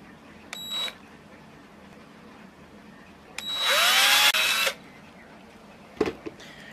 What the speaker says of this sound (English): Take your drill and drill your holes for your screws